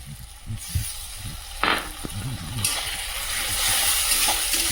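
Onion paste frying in a pan, with a hiss that swells and stays bright in the second half, a few stirring scrapes and a faint voice underneath.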